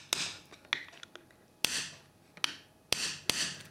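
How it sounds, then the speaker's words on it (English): A screwdriver driven at an angle to bang a star washer up tight on a Pro-Pruner P100/P50 pruner bolt: several sharp metallic knocks separated by scraping rasps, close and fairly quiet, with no one speaking. "And then bang that star washer up."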